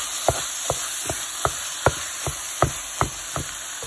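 Chicken keema with Greek yogurt being mixed in a pan, with about ten evenly spaced scraping, tapping strokes of a spoon against the pan under a steady high electronic whine.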